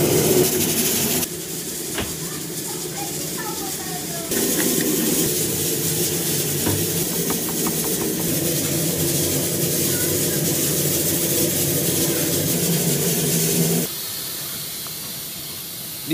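Shredded pork and winter bamboo shoots being stir-fried in hot oil in a Shaoxing farmhouse kitchen, a loud steady sizzle and hiss running throughout with brief shifts in intensity.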